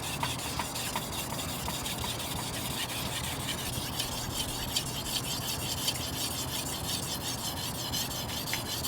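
Kitchen knife being sharpened on a sharpening stone, a close, continuous gritty scraping of steady strokes with no talking.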